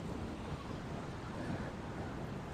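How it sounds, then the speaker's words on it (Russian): Strong wind roaring over a stormy, grey Black Sea at a beach in Anapa, with waves churning continuously in a dense, steady broadband wash and no clear breaks or voices. "Очень сильный ветер."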